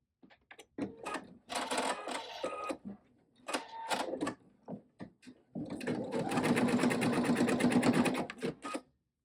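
Embroidery machine stitching an in-the-hoop mug rug, bursts of rapid mechanical needle chatter separated by short pauses, then a longer steady run of stitching, close and fairly quiet.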